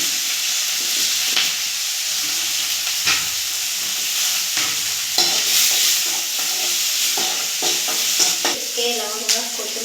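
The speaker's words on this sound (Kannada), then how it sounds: "ಸ್ವಲ್ಪ ಗೋಲ್ಡ್ ವಿನ್ನರ್ ಎಣ್ಣೆ ಹಾಕ್ಕೊತೇನ್ರಿ. ಹಾಗೆ ಮೆಣಸಿನ್ಕಾಯಿ ಹಾಕ್ಕೊತೀನಿ." Loud, constant sizzle of chilies frying in hot Gold Winner oil, with stirring scrapes and crackles breaking through the bright hiss throughout; no voices.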